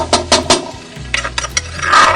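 Pork stir-fried with chili and garlic in oil in a pan: quick, rhythmic scraping strokes of a utensil against the pan, close and fairly loud, with a sizzling rasp in between.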